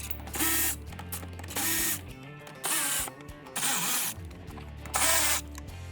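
A ratcheting tool backs out 10mm screws from the fender flare of a 2025+ Toyota 4Runner TRD Pro or Trailhunter, in about five short bursts of clicking close up, with quiet pauses between them.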